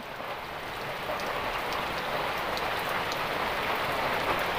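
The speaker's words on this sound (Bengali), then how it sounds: "আমি আপনাদেরকে একটু দেখানোর চেষ্টা করব এখন যেভাবে বৃষ্টি হয়" Heavy rain pours onto village houses in Alikadam upazila: a dense, continuous roar of drops drumming on surfaces, loud and unbroken from start to finish.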